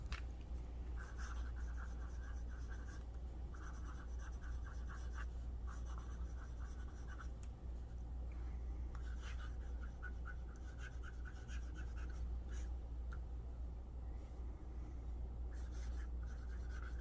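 A fountain pen scratches across Tomoe River paper, a soft continuous rustle of nib strokes in short, irregular bursts, faint and close against a low background hum, with no talk.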